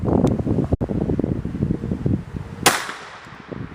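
A Colt .25 ACP pistol fires one shot into a wet pack backed by denim outdoors, a sharp crack cutting through steady wind rumble on the microphone.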